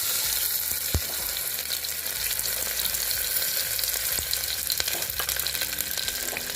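Onion frying in hot oil for drumstick amti, a loud, steady close-up sizzle with occasional faint taps and stirring, no voices.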